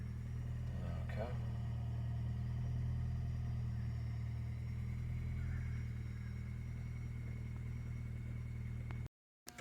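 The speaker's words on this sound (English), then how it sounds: "Looks like the engine came back on and it drops down." A Toyota Prius engine idles steadily close by, a constant low hum that runs through most of the stretch with faint intermittent noises above it, then cuts off abruptly near the end.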